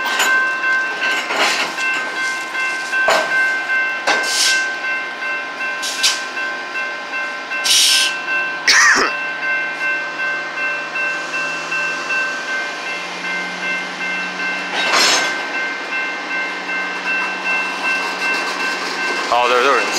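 SERA 2658 switcher locomotive working at West Sacramento, California, pulling two hopper cars in a steady rhythmic rolling clatter with a low engine drone, sharp metallic squeals and knocks, and occasional voices nearby.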